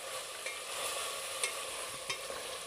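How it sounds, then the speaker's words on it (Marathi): Mutton pieces sizzle and crackle in hot oil in a pan as they are fried, with a steady, fairly quiet frying hiss and a few sharper pops, stirred at intervals, no voices. "5 मिनिटं तेलावरती चांगलं परतून घ्यायचे"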